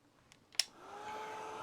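A heat tool blowing over ink on craft paper, switched on after a couple of soft clicks and then a steady, quiet whirring hiss that holds to the end.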